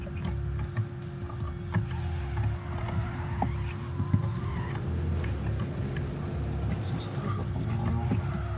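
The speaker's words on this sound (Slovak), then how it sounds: "Tie auta nemajú až taký reálny zvuk," Car engines hum in the racing game Need for Speed World, a continuous low drone with scattered ticks and brief clicks, moderately loud and unbroken.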